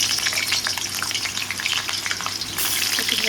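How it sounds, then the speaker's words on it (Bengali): Potatoes frying in hot oil for chicken kasha: a dense, steady sizzle and crackle close by, with a brief stirring scrape and the hiss briefly surging near the end. "এই আলুগুলো ছেড়ে দিই এবার তেলের মধ্যে, যেহেতু আলুগুলো একটু ভাজতে হবে আমাকে।"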